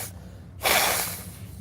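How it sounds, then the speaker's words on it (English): A person bends over and blows their nose once, a loud breathy rush of air that starts abruptly and slowly trails off, close to the microphone. "I'm going to bend over here and blow my nose."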